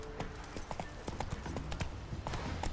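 Roach, a horse in The Witcher 3 video game, clip-clops along with steady, evenly spaced hoofbeats, fairly close and clear against a soft ambient background, with no talking heard.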